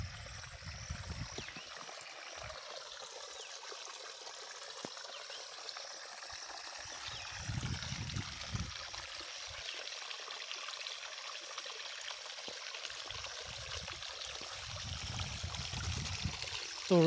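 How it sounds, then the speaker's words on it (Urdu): Water rushes steadily through a breach in an earthen dyke, a continuous hissing roar of fast flow heard from nearby, with low rumbling surges rising and falling underneath. "پانی کی آواز بھی سنی سکنے، بڑی سپیڈ ہے اس."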